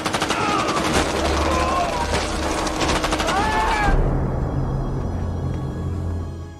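Film soundtrack of soldiers bursting into a meeting room and shooting everyone: loud, rapid automatic gunfire in dense bursts with shouting, then an abrupt cut to a low ringing drone.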